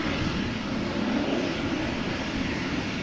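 An Embraer 175 airliner close by at Amsterdam Schiphol, a loud, steady engine rumble and hiss filling the short stretch without any voices.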